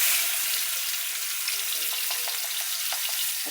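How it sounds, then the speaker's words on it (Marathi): Spices sizzle and fry steadily in hot oil in a pan, a continuous close crackling hiss with faint scraping stirs near the end. "चांगलं तेलात फ्राय करायचं आहे आपल्याला, थांबायचं नाही इथंच"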